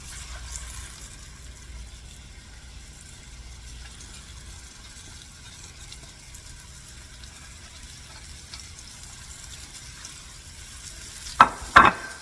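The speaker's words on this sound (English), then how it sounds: "we're going to sear this on all 4 sides." Large chunks of beef roast sear in a pan, making a faint, steady sizzle, with two sharp metallic clanks near the end.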